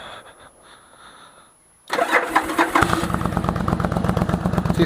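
A Yamaha XV1100 Virago motorcycle fitted with homemade exhaust baffles cranks over and fires up after near silence, settling into a loud, steady, close-up idle rumble.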